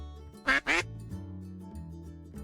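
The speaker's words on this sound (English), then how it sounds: "Is she being swarmed by ducks?" Two loud, close duck quacks in quick succession in a video game about Penelope and Odysseus, set over a steady low musical drone that continues afterward.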